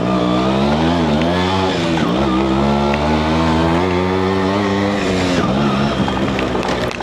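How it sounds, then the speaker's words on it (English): Yamaha RX100 two-stroke motorcycle ridden off-road, its loud, close engine buzzing and revving continuously with rising and falling pitch as the throttle changes. "You can never say no for off-roading an RX100."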